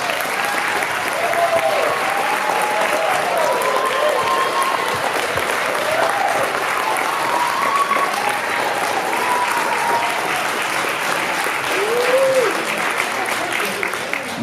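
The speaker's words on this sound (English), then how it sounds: "Can we give this group another round of applause?" An audience at a Columbus Urban League AAMI graduation gives the graduating group a sustained round of applause, loud and even from start to finish, with a few voices calling out over the clapping.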